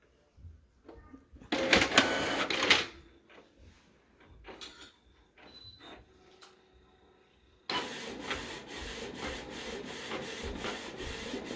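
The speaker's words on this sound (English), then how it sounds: "It's a little loud, but I think all printers are." A printer runs off a colour photocopy, starting with a burst of loud mechanical whirring, then clicks and grinding as parts move, and ending in a steady, sustained feeding hum with no talk.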